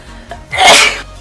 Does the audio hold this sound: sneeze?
yes